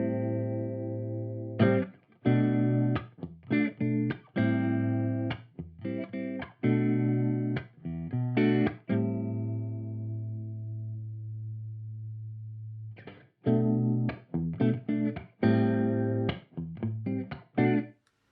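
Guitar played through a Meris Mercury 7 reverb pedal with its modulation engaged, producing sustained, wavering chorus-like chords with distinct plucked attacks, a long ringing tail, a pause near the middle, then more strummed notes; no talking.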